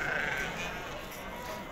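A Berber breed sheep bleats in a drawn-out, wavering call close by at a livestock market in Azrou, over a busy background with other sounds around it.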